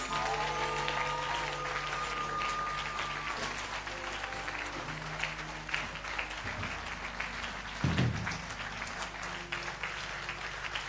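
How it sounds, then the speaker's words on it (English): Church congregation applauding after a sermon, a steady wash of many hands clapping at moderate loudness, with faint voices and a sustained tone underneath. "give Jesus a mighty clap of him"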